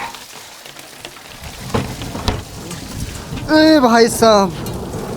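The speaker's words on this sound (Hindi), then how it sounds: "ओलों की बारिश।" Hail and heavy rain pelt down outdoors in a thunderstorm, a dense steady patter with low rumbles underneath, while a man calls out loudly over it.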